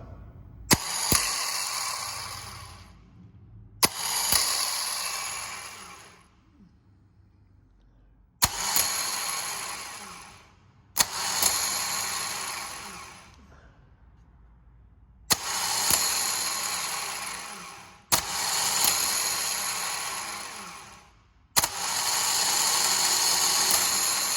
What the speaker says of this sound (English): this starter's working here on the bench, but it doesn't have enough, it's not strong enough to spin the flywheel